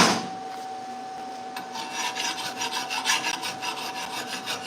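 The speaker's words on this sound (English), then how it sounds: "So I want to get this reformed mill scale out the best I can." Steady, close abrasive scraping on welded steel to remove reformed mill scale near a rear axle, settling into quick rhythmic back-and-forth strokes after the first second and a half.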